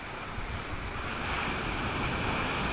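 Sea waves wash steadily against the stone-lined shore just a few metres from a seaside temple wall, a continuous broadband surf roar with wind noise and no voices.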